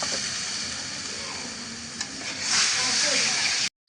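Onion, chopped chilli, chilli powder, turmeric, salt and spices cook in a pan for a bottle gourd dal, giving a steady close sizzle and hiss with a brief stir noise and a louder burst of sizzling near the end before cutting off.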